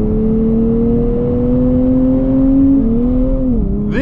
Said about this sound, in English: So I'm heading into Sport Plus and putting my foot down.